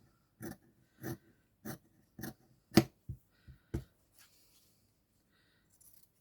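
Scissors snip through satin ribbon in a steady run of about eight close, crisp cuts, each with a short metallic slide, in a quiet room.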